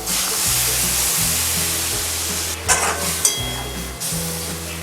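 Water is poured into a pan of frying spices for a paneer and cauliflower curry, giving a loud, close, continuous sizzle with a couple of brief bursts partway through.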